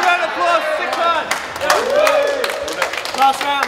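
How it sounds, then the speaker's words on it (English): A crowd at a rap battle erupts with loud shouting, hollering and scattered clapping, close and raucous throughout, with voices cheering over one another. "give a round of applause for the cunt"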